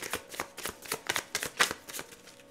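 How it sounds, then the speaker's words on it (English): Tarot cards being shuffled by hand in a burst of quick, papery riffles and flicks, close and fairly quiet, with no talking. "Let's go ahead and get some more tarot cards here."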